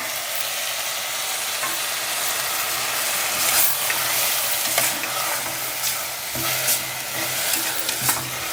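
Onion and tomato frying in a pan for a ridge gourd curry: a continuous bright sizzle with the scrape and clack of a spoon stirring, close and steady throughout.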